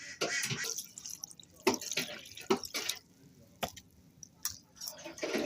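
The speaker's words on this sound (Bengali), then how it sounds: "এবার আমি পাতাগুলো ধুয়ে নেব।" Water splashes and drips in irregular bursts while chopped Malabar spinach leaves are washed by hand for a village-style fritter recipe, with soft squishing between quieter pauses.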